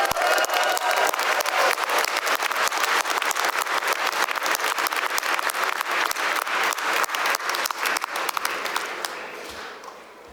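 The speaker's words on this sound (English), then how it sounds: "So let's give them a big round of applause." A commencement audience at a university economics graduation claps for graduates' families, a loud, sustained wall of dense clapping from a large crowd that holds steady for about ten seconds before thinning out at the end.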